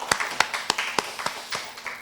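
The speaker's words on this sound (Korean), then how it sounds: "우리 하나님께 영광의 박수 올리도록 하겠습니다." Members of a congregation clap during a Korean Sunday worship service, about nine distinct, crisp claps at uneven intervals, separated by short quiet gaps rather than blending into a roar.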